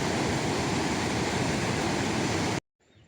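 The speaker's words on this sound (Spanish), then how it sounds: "El río baja, impresionante la fuerza." Loud, steady roar of the fast-flowing Urubamba river in the Peruvian jungle, close and unbroken, cutting off abruptly to near silence at the very end.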